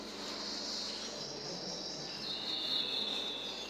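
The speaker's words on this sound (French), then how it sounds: "On entend les oiseaux." Crickets trill in a steady, shrill high-pitched drone outside a psychiatric annex, with faint bird calls mixed into the continuous outdoor insect chorus.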